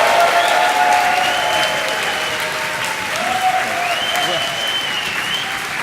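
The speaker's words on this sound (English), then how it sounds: "just burst into really spontaneous, loud applause and whooping" Conference audience at a programming awards session bursting into loud applause, with sustained whoops and cheering voices rising over dense clapping that continues steadily throughout.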